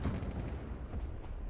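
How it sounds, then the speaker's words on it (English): Mortar fire in the military shooter game Squad, a short low rumbling boom with repeated heavy thuds rolling off into distance, no talk over it. "They have the mortar in the back of the. Listen. Yeah, it's the mortar."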